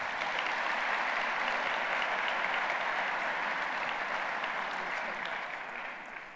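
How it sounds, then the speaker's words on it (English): A conference audience applauds steadily after an opening speech, dense clapping that holds strong for several seconds and then begins to fade toward the end. "So please, big applause for that."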